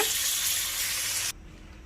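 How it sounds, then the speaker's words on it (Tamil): Water gushes steadily into a pan of bitter gourd masala fry for about a second and a half, then cuts off abruptly, leaving near silence. "இது கூடவே காய் வேகிறதுக்கு தேவையான அளவு தண்ணி ஆட் பண்ணிக்கோங்க."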